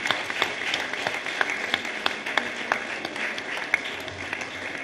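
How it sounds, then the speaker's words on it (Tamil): An audience at a school event claps for a student, giving a steady patter of many hands with scattered sharper claps that carries on evenly without fading. "நீங்கள் அனைவரும் கரகோஷம் எழுப்புமாறு அன்புடன் கேட்டுக்கொள்கின்றேன்"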